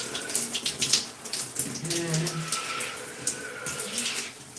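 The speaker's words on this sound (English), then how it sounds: "put a little water in my hair" Tap water runs steadily while hair is being wetted during a wash-and-go styling routine, a broadband hiss close by with a brief spoken word near the start.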